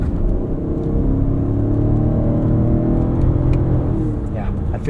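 A 2024 Lexus TX 550h+ plug-in hybrid SUV accelerating hard, heard from inside the cabin as a loud, steady low rumble and whir of engine and road noise throughout.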